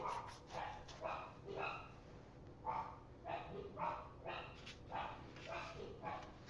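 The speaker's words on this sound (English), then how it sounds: "Well, the dogs are certainly going nuts." Several dogs barking excitedly indoors, a rapid series of sharp, moderately distant barks and yips repeating in bursts throughout.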